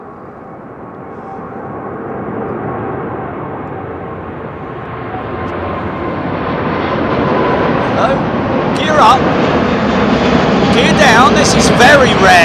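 Airbus A380 jet departing London Heathrow, a broad, building engine roar that grows steadily louder and nearer over the clip, with airy rumble throughout and some crackle toward the end.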